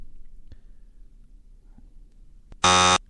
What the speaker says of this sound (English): And where's the buzzer?